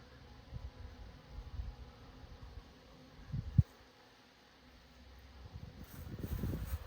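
Honeybees around feeders in a bee yard outdoors make a faint, uneven buzz, with individual bees droning close past now and then, louder toward the end.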